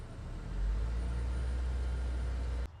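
A 2018 Acura ILX engine idles steadily just after a spark plug change, a smooth low rumble heard from inside the car that holds even before cutting off sharply near the end.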